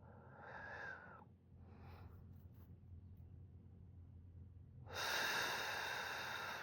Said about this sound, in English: I'm going to take a couple deep breaths in.